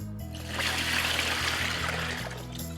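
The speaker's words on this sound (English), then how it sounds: "Tip that water out." Rinse water poured out of a whole-house water filter housing, a steady close trickling and pouring stream lasting a few seconds, no talking.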